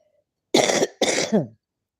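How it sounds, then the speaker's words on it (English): Two sharp, close coughs from a person with an upper respiratory infection and a cold, the second breaking into a rougher, throaty rasp, in an otherwise quiet room. "time and again I will be coughing I still have the infection cold"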